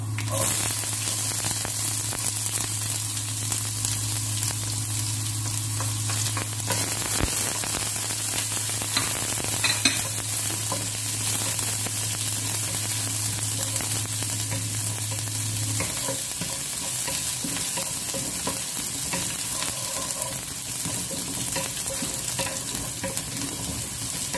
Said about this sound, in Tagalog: So, lutuin natin guys hanggang medyo malambot yung ating sibuyas.